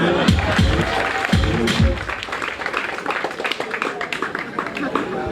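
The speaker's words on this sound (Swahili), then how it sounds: "piga makofi" An audience claps at a health college opening ceremony in Tanzania, a burst of rhythmic hand claps at first that becomes a steadier scattered applause, close and fairly loud throughout.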